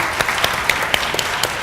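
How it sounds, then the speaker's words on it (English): Audience at a catering industry roadshow in a London hotel breaks into brief applause, a dense wash of clapping with a few sharper individual claps standing out, fairly close and steady throughout. "So you all deserve a round of applause for that."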